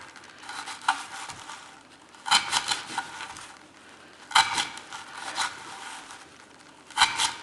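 Spyderco Delica with a VG-10 blade slicing through rope, heard close as a few separate bursts of scraping, fibrous rasping with quiet pauses between cuts and no talking.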